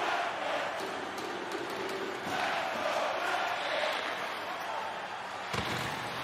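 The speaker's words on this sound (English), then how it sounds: "Already we're hearing from this loser crowd." Crowd at a hockey arena shouting and roaring, a steady dense wall of voices throughout with a sharp thud near the end.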